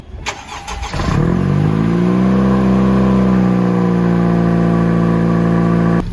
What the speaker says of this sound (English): I'm gonna give you a startup, and then we're gonna take it for a little drive, and we'll see how quiet it is.